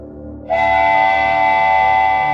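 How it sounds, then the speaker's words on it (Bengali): A train whistle sounds in a horror cartoon, starting abruptly after a low hum and holding as a loud, steady, sustained tone to the end. "দূর থেকে হুইসেলের শব্দ ভেসে আসে।"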